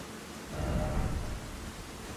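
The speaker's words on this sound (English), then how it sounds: "Wait, it only rains in this spot?" Steady rain falling in the Elden Ring DLC video game, a broad hiss of rainfall that swells slightly and holds constant, with no voices.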